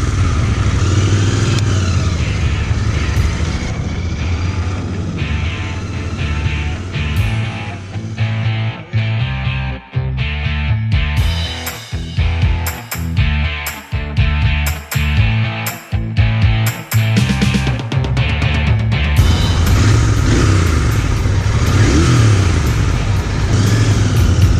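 Royal Enfield 650cc motorcycles ride past with a loud, continuous engine roar, rising and falling through gear changes and throttle, sometimes choppy, then steady and heavy toward the end, with no talk.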